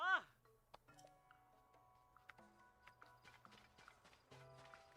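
Horse hooves clip-clop faintly in Zelda: Tears of the Kingdom, scattered light taps among game chimes and tones after a brief opening call, with a voice talking over them.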